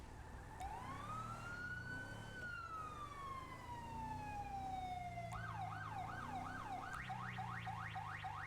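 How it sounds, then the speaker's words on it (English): A Sound Off Nitro police siren in the FiveM video game wails in a long rising and falling sweep, then switches to a fast repeating yelp, loud and steady with no talking over it. "I actually have a sound off siren."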